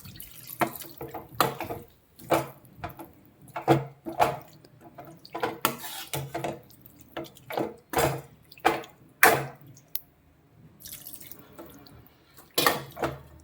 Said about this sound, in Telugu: కొద్దిగా నీళ్ళు వేసుకుందాం